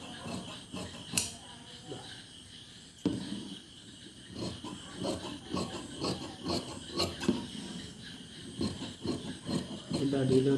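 Scissors cutting an oval shape out of ladies' blouse fabric, giving a steady rasping, rubbing sound with scattered sharp snips, close and fairly quiet, with no talking.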